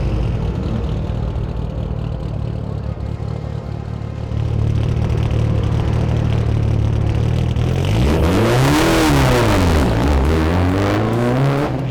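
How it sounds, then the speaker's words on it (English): Rally cars roar past at speed into the dusk at Goodwood, engines rising and falling in pitch as they sweep by, loud and continuous with no voices. "Some incredible rally cars racing into the dusk here at Goodwood."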